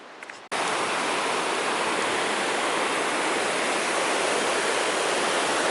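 Mountain creek water rushes steadily in a loud, close, continuous broadband roar near McDonald Glacier, starting abruptly after a brief quiet moment and holding constant.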